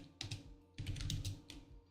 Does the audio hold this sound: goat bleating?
no